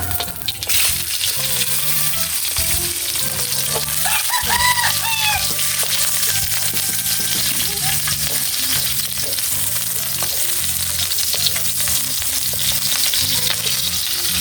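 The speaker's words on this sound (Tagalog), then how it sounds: "magsisimula na po tayong mag-gisa. Lagay muna yung sibuyas" Onion sautéing in a pan for a Filipino sour viewer-requested dinner dish, a steady, loud sizzle of frying with stirring scrapes running throughout, close and continuous, with faint background noises over it.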